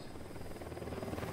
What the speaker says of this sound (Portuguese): Aí, o helicóptero já pegou aqui.